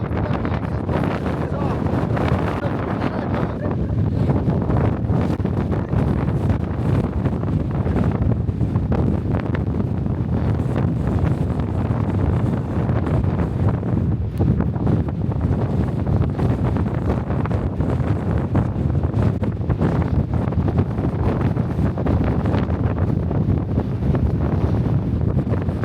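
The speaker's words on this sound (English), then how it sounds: "absolutely blowing the gale" Gale-force wind from Storm Kathleen in the Lake District roars and buffets the microphone continuously, a loud, dense rumble with no letup across the whole stretch.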